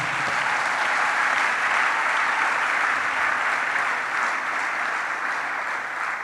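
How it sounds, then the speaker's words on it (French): A church congregation at a French-language worship service claps together in sustained, dense applause that fills the room evenly from start to finish. "Acclamons Jésus-Christ"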